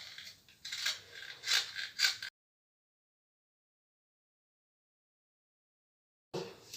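Scissors cutting T-shirt fabric for the back armhole, a short run of crisp snipping and rustling close up, then a long silence before another brief cut.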